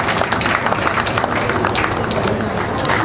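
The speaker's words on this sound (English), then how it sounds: "Please give them a round of applause, ladies and gentlemen." An audience applauds at an evening event, a dense, steady wash of many hands clapping at moderate distance, sustained evenly throughout with some crowd noise.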